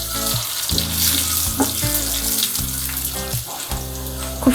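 Panch phoron spices hitting hot oil with lightly browned onion and garlic for a lentil dal, making a loud continuous sizzle under a low steady hum, with a few faint clicks.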